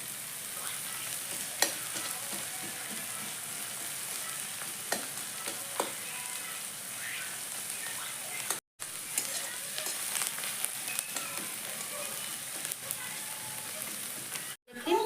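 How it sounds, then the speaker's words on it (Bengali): Onion and garlic frying in a pan, a steady close sizzle with occasional stirring scrapes and small pops running throughout, no talk. "পেঁয়াজের সাথে রসুনটা খুব ভালো করে ভেজে নাও"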